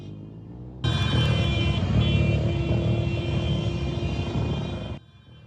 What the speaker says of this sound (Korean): 오토바이 한 대가 굉음을 내며 뿌연 연기를 내뿜습니다